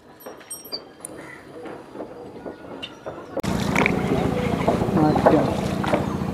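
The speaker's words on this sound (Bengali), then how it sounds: "আমরা কুন্তী নদীতে একটু নৌকা বিহার করতে বেরিয়েছি" A rowed country boat with a boatman moves on the Kunti river in Hooghly, West Bengal; quiet water and wind at first, then a sudden loud, close rush of water and wind noise.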